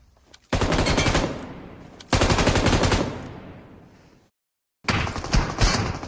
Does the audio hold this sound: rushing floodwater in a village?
no